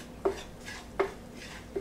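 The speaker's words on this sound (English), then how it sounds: "Now I'm going to stir that around," A spoon scrapes and taps against a metal pot three times at an even pace while frying spices for curry, quiet and close, with no voices.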